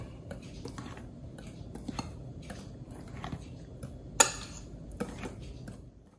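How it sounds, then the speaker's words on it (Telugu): Red velvet cake ingredients are stirred in a mixing bowl in a home kitchen, making soft, quiet scraping and light tapping of a utensil against the bowl, with one sharper clink partway through. "సరే మళ్ళీ మిక్స్ చేసేసుకుందాము"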